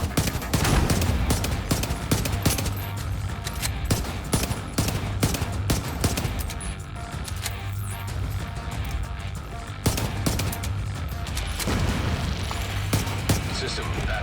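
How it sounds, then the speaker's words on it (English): Rapid bursts of heavy gunfire and booms from a rogue artillery turret in a video game, loud and dense throughout with brief lulls, continuous volleys layered over low rumbling. "Rogue artillery turret detected."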